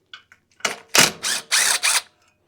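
Ratchet wrench backing out ignition coil bolts on a Kohler V-twin engine of a Toro Titan mower, several short close clicking bursts in quick succession, with no talking.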